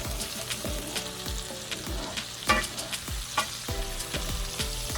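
Spicy garlic shrimp sizzles steadily in a frying pan, with a spatula scraping and stirring in repeated strokes roughly every half second, close and clear with no talking.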